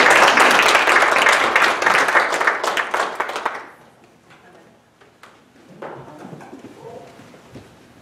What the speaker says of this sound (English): would you give them a big old clap of praise this evening?